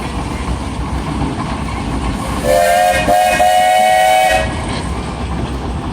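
A 24-horsepower Minneapolis steam traction engine sounds a steady whistle lasting about two seconds over continuous loud hissing steam, close and with no voices.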